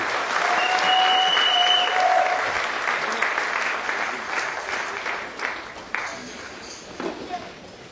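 A church congregation applauding, dense, sustained clapping that starts loud and gradually thins out into scattered claps. A voice is heard under the applause.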